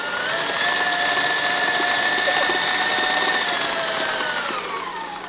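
An electric mixer whirs steadily through cheesecake batter with sugar added, a loud continuous motor drone with a constant pitch that holds throughout and tapers slightly at the end.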